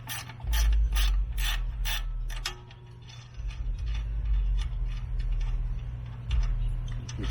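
A ratchet wrench loosens bolts on RV entry steps at a campground, with rapid clicking pawl bursts in quick runs over a steady low hum, close and fairly loud, with no talking.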